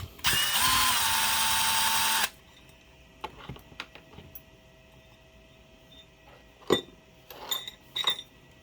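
A powered screwdriver with a T15 bit backs screws out of a DeWALT 20V Max DCS438 cut-off tool. It gives a loud whine of about two seconds, followed by scattered light clicks and metallic clinks of parts.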